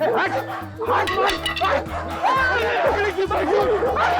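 A dog barks and yips repeatedly in an Indian village, close and loud, with people talking and shouting over it throughout.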